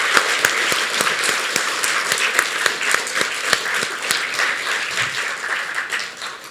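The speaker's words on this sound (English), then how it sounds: "let's give this entire group one more round of applause" An audience at a children's speech competition for 9- to 10-year-olds gives a loud, sustained round of applause, with individual sharp claps standing out close by amid the crowd's clapping.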